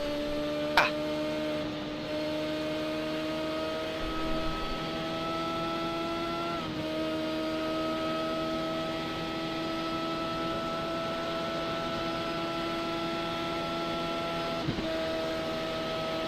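An IndyCar engine in a racing video game at Mobility Resort Motegi holds a steady, close, whining drone. Its pitch shifts noticeably twice, like gear changes, with no talk over it.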